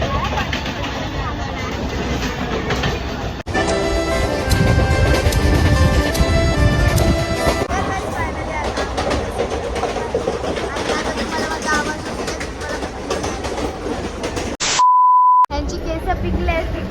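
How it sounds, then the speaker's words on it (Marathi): Loud, constant rumble and rattle of a moving train with clattering noise, voices babbling underneath, and a sharp electronic beep near the end. "ट्रेनचा आवाज एवढा जास्त आहे ना"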